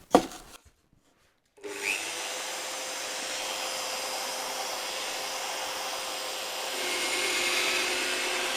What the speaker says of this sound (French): je me permets juste de les couper à la scie cloche